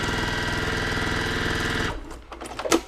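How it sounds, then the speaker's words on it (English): A sewing machine stitches a foundation paper quilt block in a fast, steady whir for about two seconds, then stops, leaving quieter handling noises and a brief clack. "so that is actually how fast I sew at home"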